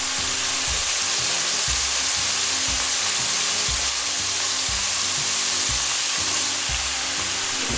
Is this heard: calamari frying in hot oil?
yes